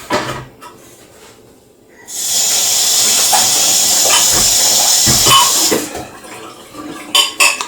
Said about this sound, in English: Just going to slightly rinse it and add this just a little water.